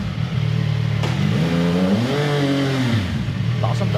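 A 2025 CF Moto 675 SR-R motorcycle engine revving in neutral, climbing in pitch, holding high and dropping back to idle, loud and close.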